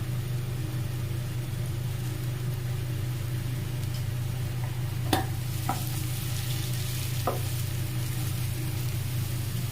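Chopped onion fries in a pan with an even sizzle over a constant low hum, broken by a few sharp clicks and taps of a utensil, close and steady, no talking.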